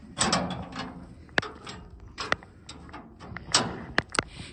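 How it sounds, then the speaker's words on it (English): Doors of an old Timberjack skidder being shut, a series of sharp metallic clunks and latch clicks over rustling handling noise, close and fairly loud, with no talking. "Closing the doors."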